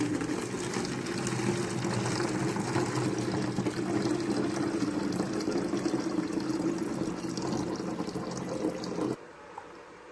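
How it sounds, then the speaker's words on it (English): Hot water pouring steadily into an empty plastic bottle, a constant close splashing gush that runs for about nine seconds and then stops abruptly, leaving quiet room tone. "we are going to pour some hot water inside"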